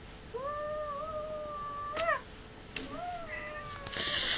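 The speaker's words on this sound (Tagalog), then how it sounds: "Uy, naipit yung pusa." A pet cat meows repeatedly after being pinched, giving several drawn-out, wavering complaining cries with short pauses between them, close to the microphone, alongside some handling noise.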